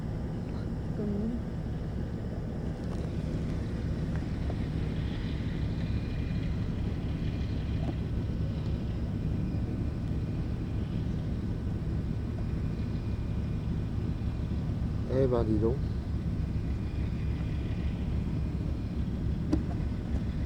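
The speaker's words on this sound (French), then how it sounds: "Ça c'est du petit bateau à moteur." A small motorboat engine drones low and continuous over wind and water noise throughout, with a person speaking briefly in French.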